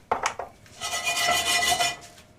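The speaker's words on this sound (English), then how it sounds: "in this pan, I just want to toast a teaspoon of cumin seeds" Cumin seeds, about a teaspoon, rattle and scrape in a dry pan as they toast, a few sharp metallic clinks giving way to a steady, close rustling shake, with no one talking.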